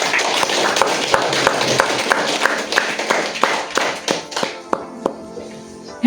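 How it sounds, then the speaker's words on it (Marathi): An audience at a DXN New Year meet in the Dadar branch office claps for DXN management, dense applause that thins into scattered individual claps toward the end. "DXN मॅनेजमेंटसाठी टाळ्या व्हायला पाहिजे"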